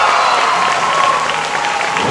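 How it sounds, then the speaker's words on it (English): A sellout crowd at the 2011 Santa Clara International Grand Prix swim meet applauds and cheers Michael Phelps before the men's 200m backstroke final, a dense, steady ovation filling the pool hall without a break. "Sellout crowd, big ovation for the top Olympian of all time"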